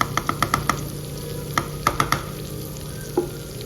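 Brinjal pieces fry in a pan for gutthi vankaya curry, a steady sizzle under a string of sharp spoon taps and scrapes against the pan, close and moderately loud, with no talking.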